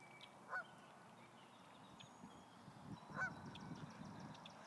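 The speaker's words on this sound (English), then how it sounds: "Look at all the Canada geese right here." Two brief Canada goose honks stand out at a distance, separated by a few seconds, over a steady low rumble of background noise.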